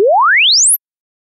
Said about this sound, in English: recording of the glide sweep signal from the notebook's headphone connector to the FX100 input